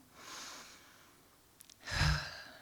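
A person takes a slow, deep breath to calm down: a soft inhale, a short pause, then a louder, breathy exhale close by, with no speech.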